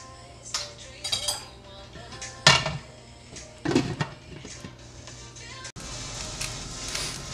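A lid clanks onto a metal cooking pot while noodle dishes of bihon and canton are being made, with several sharp metallic clinks and knocks of cookware spread across the moment, fairly close and moderately loud.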